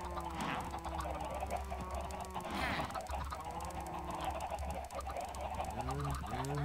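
Chickens in the video game Minecraft cluck and squawk repeatedly, several honking calls overlapping over a steady background hum, with no one speaking.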